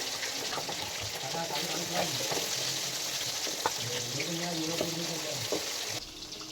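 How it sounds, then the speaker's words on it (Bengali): Fish frying in hot oil on a clay stove, hissing and spattering steadily throughout with small pops, while people talk over it nearby. "এবার মাছ ভাজবো, ঠিক আছে?"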